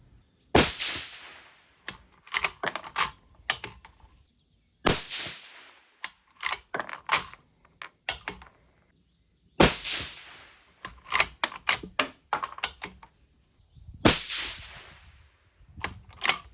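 A 22 ARC rifle fires 88-grain ELD-M rounds, with four loud, sharp reports spaced several seconds apart, each followed by a quick run of metallic clicks and clatter from the action, heard close and without talk.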